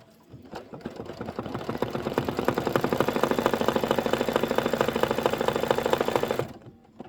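An embroidery sewing machine stitches a quilted pillow block with vinyl, a fast, steady mechanical whirr rising in after a brief start and running evenly for several seconds before stopping abruptly.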